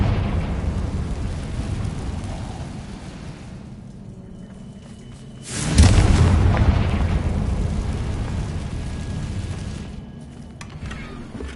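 A Confringo fire spell from a wizard video game bursts into a loud, booming blast midway through, with a broad rumbling tail that fades slowly over steady game ambience.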